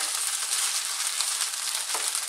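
Chicken fried rice, some of it lightly browned, sizzles steadily in a hot pan, a constant bright hiss with a brief scrape partway through.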